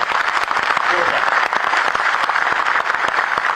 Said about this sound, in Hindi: एक बार आप अपने लिए जोरदार तालियां हो जाए।